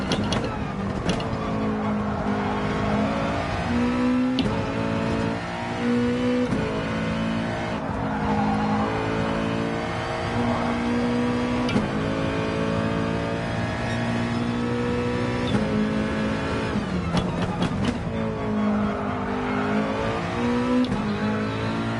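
A race car engine in a racing video game drives laps on the Alsace track, a loud, continuous engine drone rising and falling through gear changes, with occasional tire squeal through corners.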